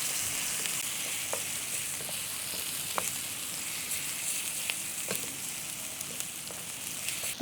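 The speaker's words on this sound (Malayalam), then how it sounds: "എന്നിട്ട് ഈ വെളിച്ചെണ്ണയിലിട്ട് നല്ല രീതിക്ക് ഒന്ന് മൂപ്പിച്ചെടുക്കുക" Spices crackle and sizzle in hot coconut oil while being sautéed for a spicy fish fry, a steady bright frying hiss dotted with small pops and occasional stirring clicks, close and continuous with no talk.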